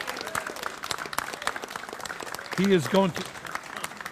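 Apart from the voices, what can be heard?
audience applause for a competition winner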